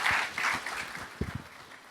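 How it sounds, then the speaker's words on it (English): An audience applauds a newly seated chairperson at a formal government orientation ceremony, a steady wash of clapping with a few sharper, closer claps standing out near the end, no voices over it. "We can continue to clap for our chairperson"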